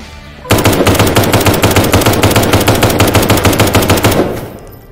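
Rapid automatic gunfire in a horror video game where a girl shoots at ghosts: one loud, sustained burst of evenly spaced shots that starts suddenly, runs about four seconds, then stops and leaves a short fading tail.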